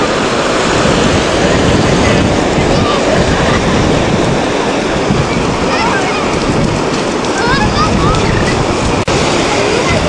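Sea waves and surf wash continuously onto the shore at a beach on San Juan's night, a loud, steady, hissing rush that holds without a break.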